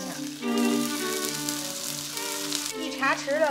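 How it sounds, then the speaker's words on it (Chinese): Chili, ginger paste and scallion pieces stir-fried in a pan with shacha sauce after browning, giving a steady close sizzle over soft background music, with brief clatters near the end. "煎到表面有点金黄了，我们就把辣椒搁进去，挤一勺姜泥，继续翻炒"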